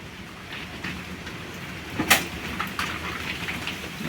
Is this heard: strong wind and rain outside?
yes